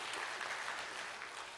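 A congregation at a Wednesday prayer service claps together in steady, even applause that sounds soft and distant and lasts a moment.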